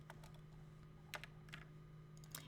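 Someone types on a computer keyboard at close range, with scattered quiet key clicks and a few slightly louder taps over a constant low electrical hum.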